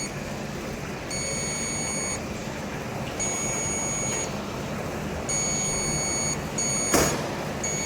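Refrigerant leak detector sniffer beeping beneath a Honda Odyssey with a leaking evaporator core, sounding repeated bursts of high beeps in a steady on-off pattern over continuous background hiss, with one sharp click near the end.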